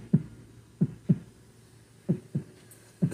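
A beatboxed heartbeat made with the mouth, a voice imitating the sound: paired low thumps repeating in a steady lub-dub rhythm, close and fairly loud against a quiet background.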